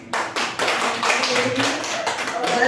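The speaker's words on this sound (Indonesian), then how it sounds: "Tepuk tangan buat kita." A small group in a classroom gives brief clapping after a student internship report presentation, uneven taps starting in bursts and settling into a moderate, close patter with a voice faintly underneath.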